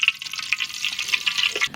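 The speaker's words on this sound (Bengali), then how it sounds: "এখন আমরা চিংড়ি মাছগুলো সুন্দর করে ভেজে নেব।" Prawns fry in hot mustard oil in a pan, giving a steady close sizzle and crackle with small spitting pops throughout.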